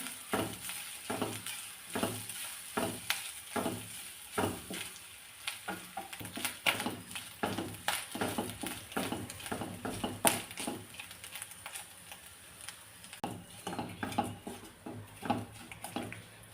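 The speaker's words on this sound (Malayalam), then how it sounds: "ഈ തേങ്ങ ഒന്ന് മൂപ്പിച്ചെടുക്കാമേ" Grated coconut roasting in a pan for Kerala-style pumpkin erissery, with a steady sizzle and repeated rhythmic scraping strokes of a spoon stirring through it, close and continuous.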